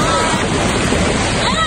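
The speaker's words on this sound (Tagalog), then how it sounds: "Ito na po ang alon." Ocean waves surging and washing at a beach, a loud, continuous close roar of churning surf with wind buffeting the microphone.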